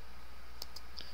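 A few keystrokes on a computer keyboard while a Linux command is typed during a Gentoo install: three soft, sparse clicks, quiet and close, with no talking.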